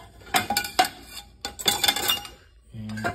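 Dishes and cutlery clinking and clattering in a dishwasher as they are checked, several close, sharp knocks in quick irregular bursts followed by a short ringing tone.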